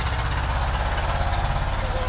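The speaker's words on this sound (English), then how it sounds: "I love Indian engines." An engine runs close by in India with a fast, steady rhythmic chugging throb that stays constant and loud from start to finish.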